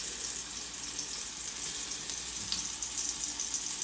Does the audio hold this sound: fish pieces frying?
yes